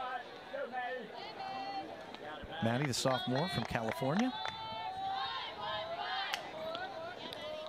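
Crowd of fans at a 2023 ACC college softball game between Syracuse and Clemson, with a steady murmur and chatter from the stands running beneath a commentator talking throughout.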